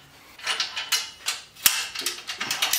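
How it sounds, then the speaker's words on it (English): Rail bolts on a DeWalt DWX726 miter saw stand being loosened with a ratchet, giving a close series of quick clicks and clacks in uneven bursts with one sharper metallic knock, heard without talking. "our next step is going to be loosening all six of these rail bolts"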